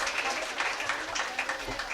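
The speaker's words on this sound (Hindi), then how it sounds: "तबस्सुम सैयद, जोरदार तालियों से हौसला अफजाई कीजिए" An audience claps throughout a prize distribution at an International Women's Day felicitation program, a dense, steady patter of many hands at moderate loudness.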